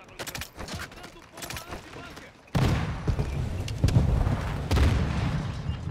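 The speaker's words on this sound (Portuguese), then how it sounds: "que explosão foi essa?" Explosion in the video game Call of Duty: Modern Warfare II, a sudden loud boom that jumps in midway and leaves a dense rumbling wash, with further blasts or gunfire swelling later; players chatter faintly over the game audio.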